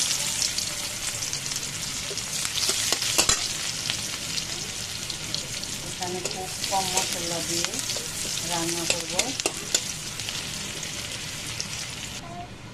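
Onions sizzling in hot oil in a pan where hilsa fish was just fried, a steady crackling hiss with bursts of stirring, while someone talks over it.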